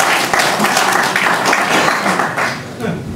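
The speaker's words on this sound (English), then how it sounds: "Big round of applause, guys." A crowd in a pub forum tech talk setting bursts into brisk applause, loud and close, many hands clapping steadily before tapering off.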